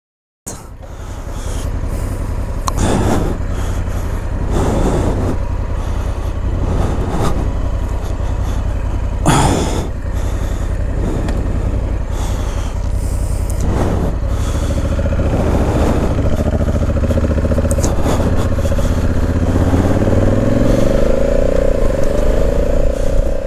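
Honda Africa Twin 1100 DCT motorcycle riding along bumpy roads, a steady loud engine drone with wind rush, occasional thumps and rising automatic gear-shift tones near the end, no voices.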